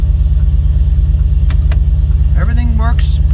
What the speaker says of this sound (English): the car is idling right now